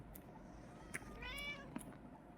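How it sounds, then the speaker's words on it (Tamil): A cat in the Minecraft video game gives a single faint, drawn-out meow against a quiet background, with a couple of soft clicks before and after it. "மியாவ் மியாவுன்னு கத்துது காய்ஸ்."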